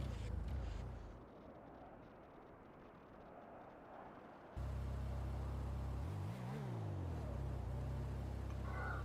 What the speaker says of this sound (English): You can hear some engine noises, a little bit of purring of the engine